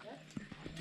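Horse hooves clip-clop a few times on a jungle trail in Punta Cana, Dominican Republic, faint and brief beneath a person's voice.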